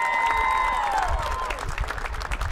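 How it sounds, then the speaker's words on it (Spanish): Brief burst of audience clapping and cheering at a mariachi concert in Las Vegas, loud and close, with a whistle-like tone sliding through the first half. "Otro aplauso para ellos, por favor, que son los más nuevos del grupo."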